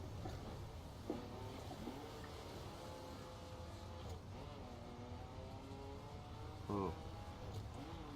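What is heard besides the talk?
fast vehicle driving at a quarry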